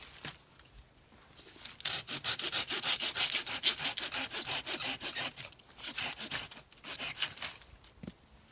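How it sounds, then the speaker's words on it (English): Firewood sawn by hand at a woodland camp, with a close, steady rhythm of rasping back-and-forth strokes that pause briefly twice before resuming, with no talk. "I'll get some firewood cut."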